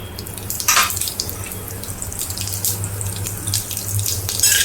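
Mustard seeds crackle and spit in hot oil in a kadhai, a steady hissing sizzle dotted with sharp pops throughout.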